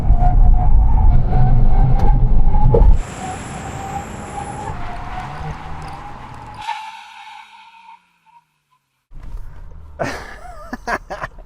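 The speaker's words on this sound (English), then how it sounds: "now we can have a brake test from 160 kilometers an hour" Volkswagen GTI cars brake hard from 160 km/h, a loud roar of engine and tyres dropping away into a thin squeal and hiss, then near silence before a short burst of fresh mechanical noise.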